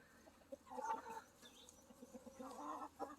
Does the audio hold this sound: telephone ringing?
no